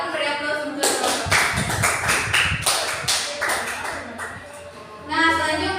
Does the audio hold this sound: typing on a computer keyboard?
no